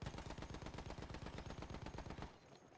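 Automatic gunfire in the first-person shooter Battlefield 1, a rapid, loud, evenly spaced burst of shots lasting over two seconds before cutting off abruptly.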